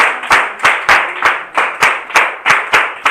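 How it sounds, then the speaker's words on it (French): A church congregation at a national women's day gathering in Djagblé claps together in loud, evenly spaced beats, about a dozen sharp claps in strong unison rhythm. "Acclame très fort pour la vie des hommes de Dieu qui sont parmi nous."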